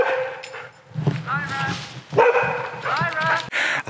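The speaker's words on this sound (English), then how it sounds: "I thought that dog were going to have me there." A rescued dog barks and yips close by outdoors, a few sharp excited calls mixed with a person talking over them.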